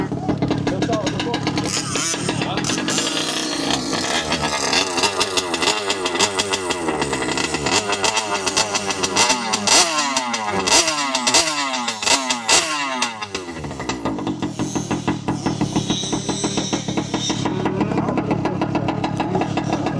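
A brand-new 2-stroke petrol engine on a 5th scale RC car runs and revs, a buzzy, rasping drone with rising and falling pitch sweeps, loud and close throughout, then settling into a rough steady idle.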